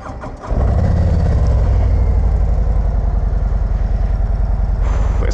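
A 2024 Harley-Davidson Road Glide V-twin fires up and settles into a loud, steady, close-up idle with a deep, lumpy, pulsing rumble that runs unbroken with no voices.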